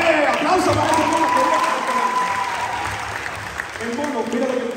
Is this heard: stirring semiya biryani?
no